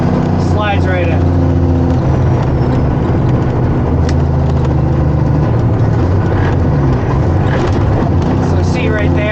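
Semi truck with an 18-speed manual transmission, engine droning steadily under gear changes, with road and cab noise throughout and a voice talking over it.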